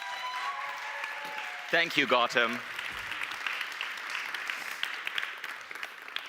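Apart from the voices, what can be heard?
audience applause welcoming speaker at summit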